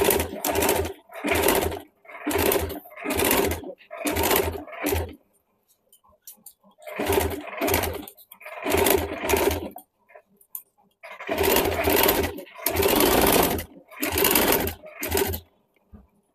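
Short, loud bursts of a nearby sewing machine stitching around a blouse neckline, about a dozen quick runs separated by pauses and a longer silent gap midway.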